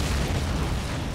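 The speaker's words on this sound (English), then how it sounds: "Pretty eager shot there." Gunfire and an explosion in the Valkyrie mod strategy game during a 1v1 tournament match: a loud, dense, rumbling blast that holds steady for just over a second without dying away.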